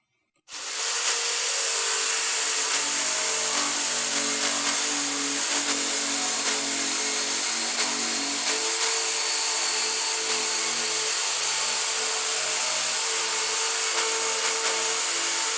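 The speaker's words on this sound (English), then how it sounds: "take a jigsaw and round them off" A jigsaw cutting rounded edges into wood boards starts abruptly and runs as a loud, steady buzzing whine with a droning motor hum, continuous and close.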